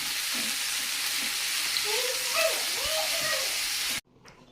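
Onion sautéing in a pan for a spicy mutton rassa curry, a steady close sizzle and frying hiss with faint stirring scrapes that runs for about four seconds and then cuts off abruptly.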